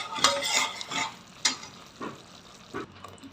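Surmai fish curry paste frying on low gas, with soft sizzling and several sharp scraping stir strokes of a spoon against the pan, moderately quiet and close, no talking.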